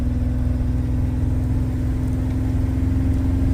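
Chevrolet C1500 truck engine idling steadily up close, a constant low throbbing rumble with an even pulse and no variation throughout.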